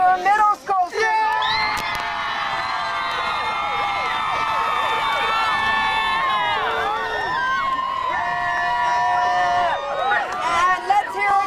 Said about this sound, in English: give yourself a round of applause, Dwyer Middle School students